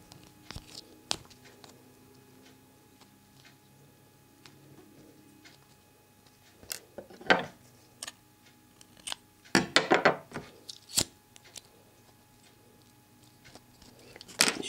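Scissors snip through organza ribbon while making ribbon flowers, a few quiet scattered cuts at first, then a sharp close burst of several rapid snips near the end, with no talking.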